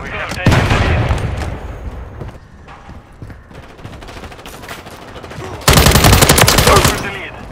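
Video game gunfire from Call of Duty: Modern Warfare comes in loud, rapid automatic bursts at the start and again near the end, with quieter scattered shots and a voice in between.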